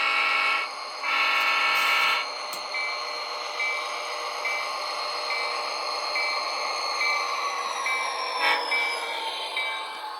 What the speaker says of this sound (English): Now arriving on track 1, the boxcar train.